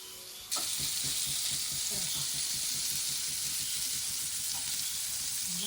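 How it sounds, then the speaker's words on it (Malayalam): Pomfret fry sizzling in a pan, a loud, steady hiss of hot oil that starts abruptly and carries on without a break, close up, with faint clicks and no talk. "ഇതൊന്ന് വറുത്ത് വരട്ടെ എന്നിട്ട് കാണിക്കാം"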